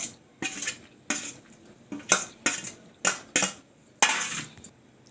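A spoon clinks and scrapes in a bowl in a series of sharp, bright strokes, roughly one per half-second, as chicken pieces are mixed into sweet corn pakodi batter, close and clear with no voices.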